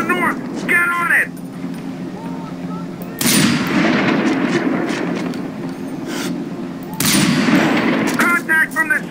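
Gunfire in the Far Cry 4 video game, loud bursts of shots cracking out in two heavy volleys amid a rumbling battle backdrop, with shouted voices at the start and end.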